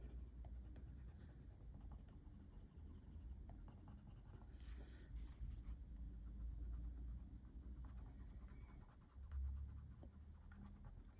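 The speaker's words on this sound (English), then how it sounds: "I'm going to go in with the white pencil." A white colouring pencil works over paper in a floral colouring book, making faint, soft, continuous scratching and rubbing strokes close to the microphone, with no talking.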